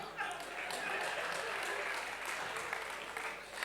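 Audience applause at a live comedy show, a steady wash of clapping from many hands, even and sustained throughout, with speech mixed in.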